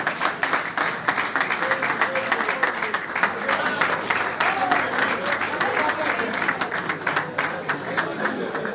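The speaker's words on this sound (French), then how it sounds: "Si nous pouvons aussi applaudir notre frère président." Audience applause at a youth conference in Kongo Central, dense sustained clapping from a crowd filling the room for several seconds, with a few voices mixed in.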